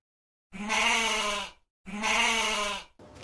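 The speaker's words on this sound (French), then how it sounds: "Alors c'est une chèvre" A goat bleats twice in long, loud, wavering cries, each lasting about a second with a short pause between, heard alone as a sound in a guessing quiz.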